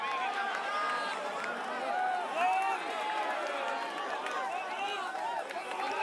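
A dense cyclocross race crowd at the Gavere World Cup round in Belgium, many voices cheering and shouting together in a constant roar, heard under commentary.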